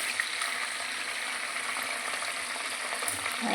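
Food fries in a pan of oil with a steady, close hiss and fine crackle that holds an even level throughout, and no voices are heard.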